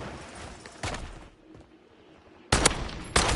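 Gunfire in the Warzone video game: a loud burst of shots, a quieter lull, then two more sharp, close volleys of rapid fire with no talk.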